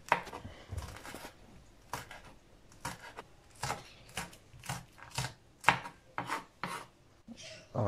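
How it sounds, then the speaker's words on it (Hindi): A knife chops green chillies for chicken biryani, with steady repeated cuts on a board in an even rhythm, close and fairly quiet, with no voices over it. "सब्ज़ मिर्चें जो है वो हम काट लेते हैं"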